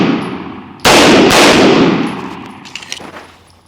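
Two loud, sharp gunshots from a 2011-pattern pistol shooting hollow point loads, fired in quick succession about half a second apart, each trailing off into a long ringing decay.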